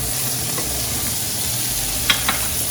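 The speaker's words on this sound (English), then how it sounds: "We just start melting the butter with the olive oil." Butter melting with olive oil in a hot pan gives a steady, even sizzle close by, with a couple of faint utensil taps near the end and no talking.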